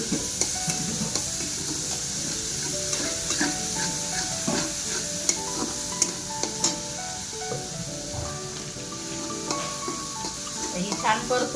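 Ginger, garlic and coriander paste fries in a little oil, a steady close sizzle with frequent spoon scrapes and clinks against the pot, with a voice talking softly underneath.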